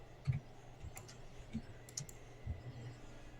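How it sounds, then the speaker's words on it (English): Computer keyboard typing, a few sparse light clicks and taps, faint and close, with a quiet low hum underneath. "I was typing, but apparently it wasn't actually entering it in the box."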